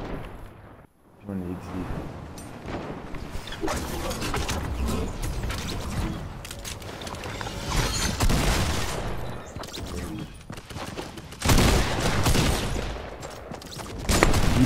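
Gunfire in Fortnite, dense rapid bursts and clattering mechanical shots with sharp loud peaks near the end, while someone speaks briefly over the action.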